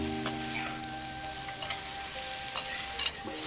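Soft cubes of American eggplant stir-fry in a pan over medium heat, a gentle steady sizzle broken by light scraping ticks of stirring, under a faint background hum.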